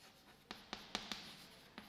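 Someone writes on a board during a maths lesson, making about six short, crisp taps and strokes spaced irregularly over two quiet seconds.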